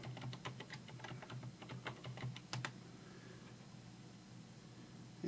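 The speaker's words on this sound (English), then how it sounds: "We'll put in our new local password to the computer." Fingers tap out a password on a computer keyboard in a rapid run of light, close clicks, then the keystrokes stop, leaving faint room hiss.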